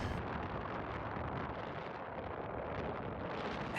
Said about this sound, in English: Windy and gusty, there's really not much in the way of flying going